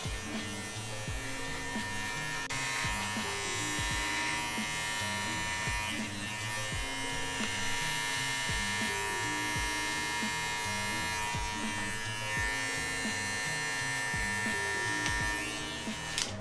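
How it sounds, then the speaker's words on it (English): An electric hair clipper cuts hair for a mid skin fade, removing bulk with a powerful barbershop clipper, a close, steady buzz with rhythmic pulsing as the blades pass through the hair repeatedly. "I'm going to remove all of my bulk below the zero line that I set with my clipper"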